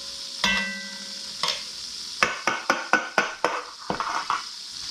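Andouille sausage being stirred with vegetables in a pot for one-pot jambalaya, heard as a run of sharp scraping, clinking strokes, roughly evenly spaced, over a low steady sizzle.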